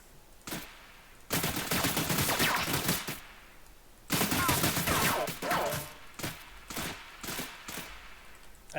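Weapon fire in an Unreal Engine 4 first-person shooter, rapid automatic bursts in two long volleys followed by shorter scattered shots, fairly quiet.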